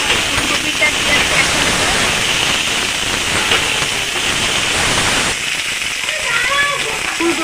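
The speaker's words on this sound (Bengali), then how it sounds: "ফুলকপির মধ্যে একটু নুন দিয়ে দেবো যাতে ফুলকপির মধ্যেও নুনটা একটু ঢুকে যায় নাড়া ছাড়া দিয়ে ভেজে দেবো" Cauliflower sprinkled with salt fries in a pan with a loud, dense, continuous sizzle that eases noticeably near the end, and no one speaks over it.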